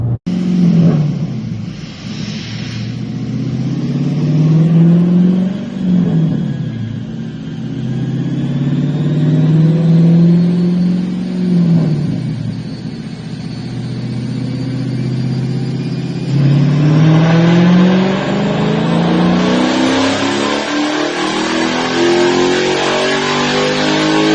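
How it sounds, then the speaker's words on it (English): A Dodge Charger Scat Pack with a muffler delete roars through a dyno run, its engine note climbing and falling in repeated rev sweeps. The exhaust is loud, close and continuous, and no voices are heard. "we went and got a base run on the dyno from Quartz Performance"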